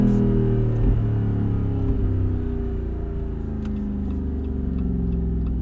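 Jeep Wrangler 392 V8 with an open-top setup, its exhaust giving a steady, loud low rumble that holds throughout, with slight swells in pitch as the engine revs.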